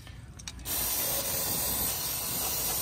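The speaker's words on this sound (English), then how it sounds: "he's using an electric cleaner to clean" A can of electrical contact cleaner blasts a steady, loud hiss of spray into the parts of a Harley-Davidson CVO Street Glide motorcycle, starting abruptly after a moment of quiet and continuing without a break.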